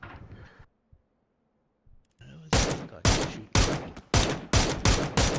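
Rapid bursts of gunfire in PUBG, a battle royale video game, fired near the edge of a casino area: about seven loud, sharp shots in a quick, fairly even rhythm, following a brief stretch of near silence.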